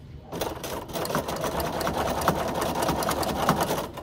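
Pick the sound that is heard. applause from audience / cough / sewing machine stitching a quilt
sewing machine stitching a quilt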